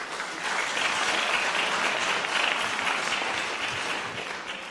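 An audience at a journalism awards ceremony in Zagreb applauds steadily, a dense wash of many hands clapping together that holds at full strength throughout.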